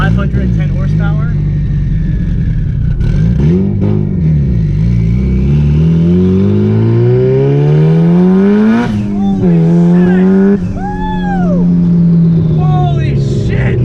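A Mitsubishi Evo 8 making around 510 horsepower on a dyno pull, engine climbing loudly through the revs in one long sweeping run with a shift or two, close and dominant, while excited voices call out over it.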